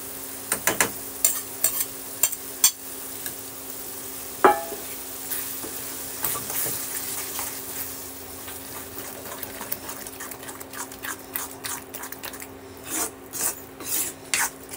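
Spinach curry paste being stirred in a pan, with quiet scraping and rubbing strokes, a few sharp clinks of the spoon, and a faint sizzle underneath.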